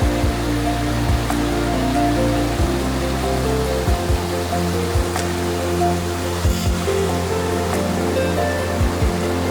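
Rushing water from the Russian River falls on Alaska's Kenai Peninsula, a steady broadband roar of churning water heard close and continuous with no talk.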